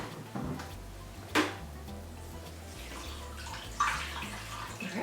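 Liquid poured into a measuring cup for an acai bowl smoothie base, a soft steady trickle and splash with a low hum beneath and two brief knocks, close and fairly quiet.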